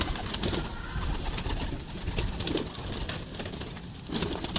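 Pigeons in a loft coo in low, repeated bursts, moderately close, against a steady noisy background with some rustling.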